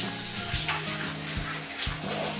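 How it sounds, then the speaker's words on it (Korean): An Iron Flower Natural Pure shower head switched to direct-stream mode sprays water, a steady, dense hiss of running water that sounds strong and continuous, close up, with a few low bumps underneath and no speech. "이번에는 직수 모드 직수 모드로 전환해서 사용해 봤는데"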